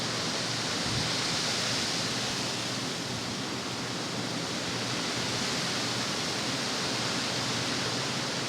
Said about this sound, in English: The wind's not helping a damn thing